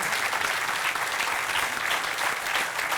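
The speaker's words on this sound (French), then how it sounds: "On peut les applaudir, bien sûr." A crowd at an outdoor food-truck gathering applauds continuously, a dense, even wash of clapping held at steady loudness throughout.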